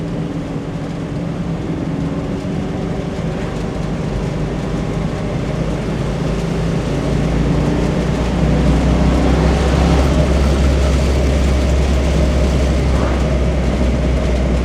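Loud, steady roar of a stock 1969 Mustang Mach 1 engine with stock exhaust manifolds and a 4.30 SCJ Drag Pack, a heavy low rumble rising slightly as the car holds speed.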